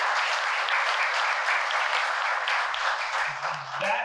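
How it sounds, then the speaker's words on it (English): An audience at a cultural grant announcement and celebration gives a steady, dense round of applause that holds at full strength throughout, with a voice starting up near the end. "Yes, big applause."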